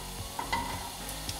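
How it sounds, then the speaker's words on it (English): Food in a frying pan on a hob as it heats, a soft, steady sizzle under a few light scrapes and clicks of stirring, close up and fairly quiet, with no talking. "You can hear it starting to sizzle now as it's heating up."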